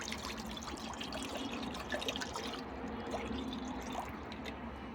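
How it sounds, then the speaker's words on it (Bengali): Water poured into a wok set on a clay stove, a faint steady trickling and splashing that runs continuously, quiet and close, with no talk. "কড়াতে দেবো পানি"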